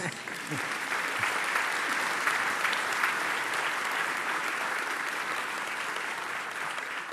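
Sustained audience applause at an event honoring Leonardo Del Vecchio in Belluno, a steady dense wash of many hands clapping at moderate volume from start to finish.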